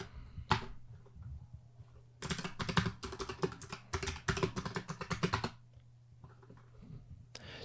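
Bursts of rapid typing clatter on a computer keyboard, close and crisp, with brief pauses between runs of keystrokes and a faint low hum underneath, no talk.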